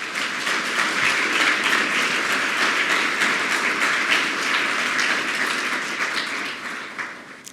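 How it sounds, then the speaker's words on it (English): A campus audience applauds at a state-of-the-campus address, a loud, sustained wash of clapping that stays steady for several seconds before tapering near the end. "Please give them another round of applause."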